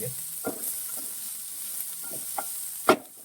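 Stir-frying ivy gourd in a pan: a faint steady sizzle broken by a handful of spaced scraping strokes of a spoon against the pan, the last one sharper and louder.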